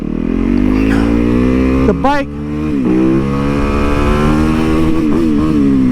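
Yamaha MT-10 motorcycle engine running with a steady throaty drone, rising in pitch as it revs and accelerates, close and loud, with a voice briefly speaking over it.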